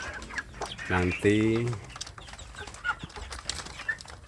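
Chickens cluck and squawk close by while pecking at wet mash feed, with a short burst of loud calls followed by softer scattered pecking and a voice talking over them.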